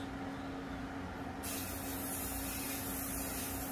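A steady hiss of spray paint from a can sprayed lightly around stencils, starting softly and then turning into a louder continuous spray over a low hum.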